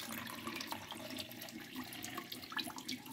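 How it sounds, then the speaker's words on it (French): Ash lye liquid is poured from one dish into another, a quiet close trickle and splash of liquid running steadily with small bubbling bursts, no voices over it. "je viens chercher le dessus de mon lessive. Que je fais juste verser"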